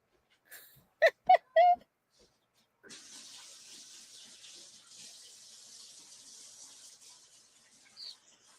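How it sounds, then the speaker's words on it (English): A tap runs at a sink for hand washing, a steady soft stream of water that starts partway through after a few brief voices and continues to the end. "Gotta wash my hands now."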